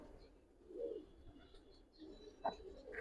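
Pigeons at a Bangladeshi pigeon seller's, likely Giribaz high flyers, give a few soft low coos at moderate distance over quiet background noise, with a brief sharper sound near the end.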